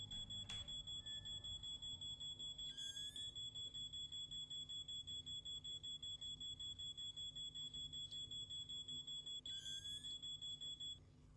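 A high electronic alarm in the horror game Paranormal beeps in rapid, unbroken pulses for several seconds, loud and constant, with two short warbling chirps cutting in over a low hum.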